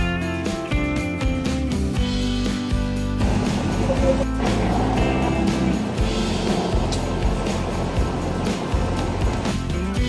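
A motorboat engine drones steadily while water rushes past the hull, loud and continuous, with some music at the start, on a boat trip to Calauit Safari in Busuanga, Palawan.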